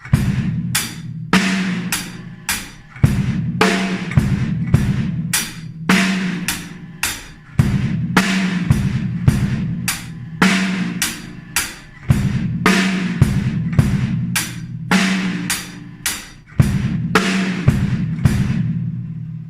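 Full drum kit groove from a song, bass drum and hi-hat combined, playing a steady repeating rock pattern for nearly twenty seconds, loud and close with no voices.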